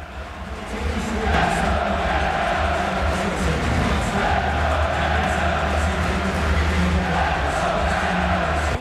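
A sold-out arena crowd roars steadily at a World Junior hockey game between Canada and Sweden, a dense, continuous wash of cheering and chatter that swells after the first second and holds loud throughout.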